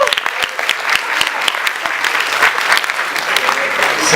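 An audience at an educational leadership event breaks into steady applause, dense overlapping claps filling the room for the whole stretch with crowd murmur mixed in.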